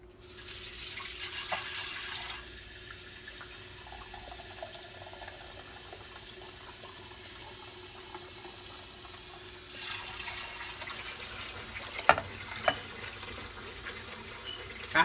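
Water pours from a tap into a pot of party Jollof rice already holding chicken stock, a soft continuous stream that stops partway through, followed by a few sharp clinks.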